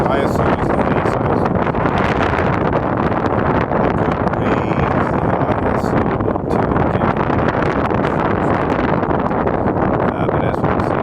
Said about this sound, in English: wind also is an issue blowing the camera